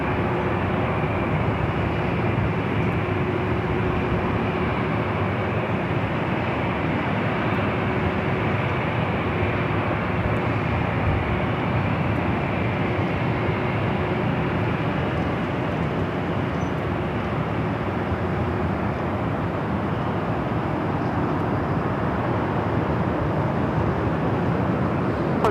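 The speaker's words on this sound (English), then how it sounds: "clear for takeoff, Delta 2051." A Delta airliner taking off from runway 24 Left at LAX produces a broad, steady jet roar that stays constant and fairly loud throughout, with no voices.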